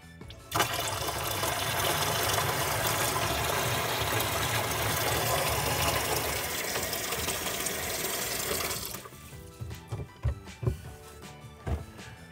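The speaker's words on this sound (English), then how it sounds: "I'm going to let the water run for say about 30 seconds or so" Water gushes from a newly installed Delta Touch2O touchless kitchen faucet, flushing the supply lines into a bucket: a loud, steady roar for about nine seconds, then it stops, leaving scattered clanks and small handling sounds.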